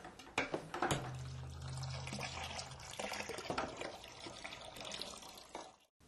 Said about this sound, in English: Prime the siphon until the beer begins to flow.